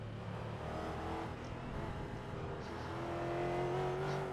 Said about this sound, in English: The V8 does sound fantastic.